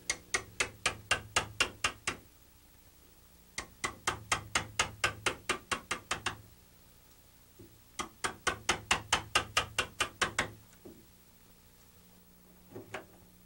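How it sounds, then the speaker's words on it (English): A sharp 1-inch chisel is struck with a mallet to excavate wood for a door lock. Three bursts of rapid, evenly spaced sharp knocks come close and clear, with brief pauses between the bursts and one faint final pair of taps. "I use a nice sharp 1-inch chisel to excavate the wood"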